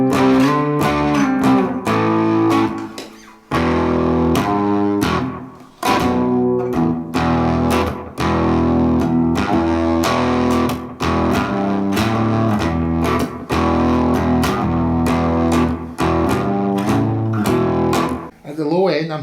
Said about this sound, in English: at the low end I'm starting to get some kind of nice fuzz tones